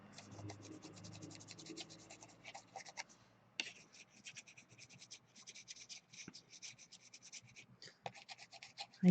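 Colored pencil scratches and rubs across hot press watercolor paper in close, quiet strokes, rapid bursts of scribbling broken by short pauses, with a faint low hum under the first seconds.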